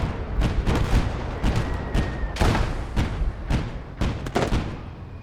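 Anti-tank gun rounds firing in the World War II game Gates of Hell, a series of sharp heavy reports spaced about a second apart amid ongoing battlefield noise.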